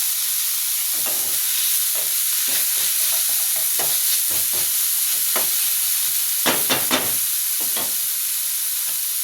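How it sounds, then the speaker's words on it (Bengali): Onion, garlic, tomato and cauliflower stirred together in a hot pan, a steady loud sizzle and hiss of frying broken by repeated scraping strokes of a spatula, with no talking. "এবার আমি ভালো করে এগুলোকে মিশিয়ে নিয়ে আসবো।"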